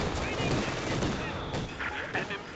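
Flak guns fire in a World War II strategy game, a dense barrage of muffled booms and crackling bursts that rolls on without pause, with a couple of sharper reports near the end over a busy battle din.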